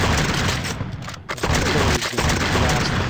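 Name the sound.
enemy artillery and musket fire from a Civil War video game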